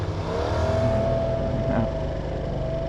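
A BMW 530 or 550 on Broad Street, a city road: a continuous, even hum of engine and tyres on pavement, steady throughout with no clear rise or fade.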